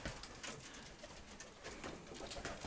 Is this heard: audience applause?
no